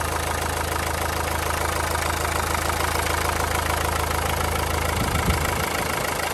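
A Renault Megane 2 1.5 dCi diesel engine idles steadily with a rough, even diesel clatter, close and continuous throughout.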